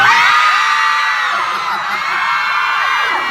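A fashion show audience screams and cheers in a loud, sustained, high-pitched wave of shrieks and whoops, close and continuous throughout, with no clear speech.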